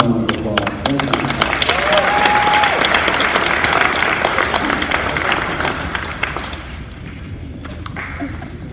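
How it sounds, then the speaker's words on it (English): A round of applause from the audience at a school athletic awards and hall of fame ceremony, dense steady clapping that fills the room at first and then gradually thins and fades. "Now we're doing a round of applause"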